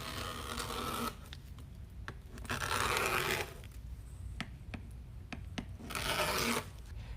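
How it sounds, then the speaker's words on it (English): Scissors slicing through deco mesh to cut squares for a spring wreath, several long rasping cutting strokes separated by small snips and rustles, close and fairly quiet with no talking. "we're gonna cut some 10-inch squares"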